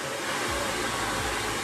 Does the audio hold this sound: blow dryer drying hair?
yes